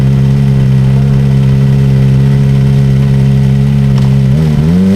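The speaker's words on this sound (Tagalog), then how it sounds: "Habang pinapaandar ko yung motor" A Kawasaki Ninja motorcycle engine runs loud and close in a steady idle drone, then rises in pitch as it revs near the end.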